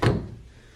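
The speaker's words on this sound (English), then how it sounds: "There's also this dresser with working drawers." A wooden dresser drawer in a resort room slides and shuts with a single short thunk, close and clear, then fades quickly with no talk.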